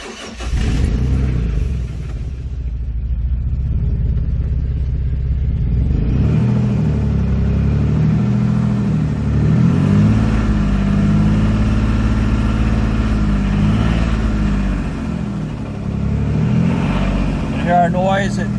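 A 2007 Dodge Nitro with a low oil pressure problem runs steadily after about fifteen minutes of warm-up, a continuous loud engine drone with slight swells in pitch throughout, and a brief starting-like burst at the very beginning.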